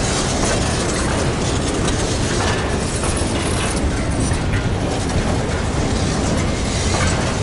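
A CN freight train with O&R boxcars rumbles steadily past close by, a loud continuous roar of wheels and rattling cars with faint clacking throughout.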